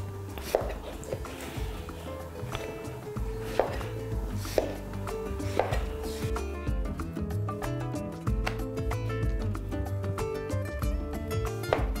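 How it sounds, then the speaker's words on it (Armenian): A knife chops mushroom pieces on a board for a chicken breast sauce: a steady run of close, crisp thuds, slow at first and then quicker and denser, with a few louder knocks. "Գլխիկը նույնպես շատ մանր չենք կտրատում։"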